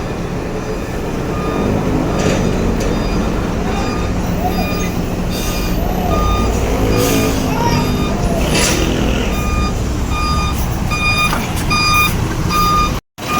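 An 80-ton mobile crane truck backs up on a road, its reversing alarm beeping in a steady repeating pattern over a loud, continuous engine rumble, with a faint voice now and then; near, ending in an abrupt cut.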